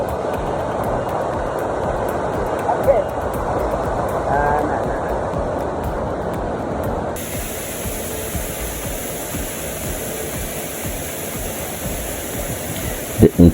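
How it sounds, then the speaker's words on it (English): Ezimo Waterfall pours heavily, producing a loud, continuous broadband roar that stays steady throughout without clear breaks, with a brief bump of noise near the end. "The intensity and the heaviness of the waterfall"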